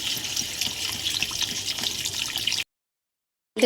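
Water splashes steadily into a pan of papaya and potato curry with shrimp, a continuous close pouring rush for a couple of seconds that cuts off abruptly into silence.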